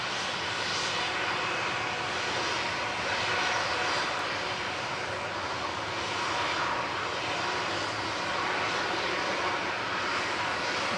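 Iberia Express plane at Manchester Airport, a steady broadband engine roar that holds evenly throughout, moderately distant and without talk.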